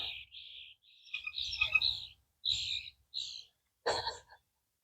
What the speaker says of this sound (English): As you try to figure out which bird makes which noise